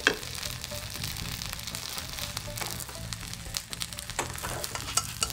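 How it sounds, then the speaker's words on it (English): Squid and spring onion usuyaki fries on medium-low heat in a pan, giving a continuous crackling sizzle with dense popping spatters throughout, fairly close and even in level. "Fry it on medium-low heat for about 2 to 3 minutes."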